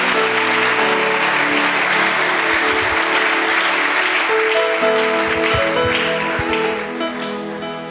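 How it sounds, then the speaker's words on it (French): A church congregation breaks into loud, sustained applause, close and full, with a held musical tone under the clapping before it slowly tapers off. "Merci d'acclamer la parole du Seigneur"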